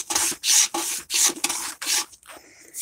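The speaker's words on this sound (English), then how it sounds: "You want to sand this inner edge right here on the frame." Sandpaper rubs back and forth along the inner edge of a wooden cabinet door frame in close, loud, even strokes, about seven rasping passes in under three seconds.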